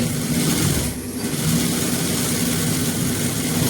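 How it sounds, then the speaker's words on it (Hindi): An electric sewing machine stitches the edge of a men's kurta, producing a loud, steady motor whirr close by that dips briefly once before resuming. "बड़े प्यार से इसकी किनारी सिलाई लगा दें"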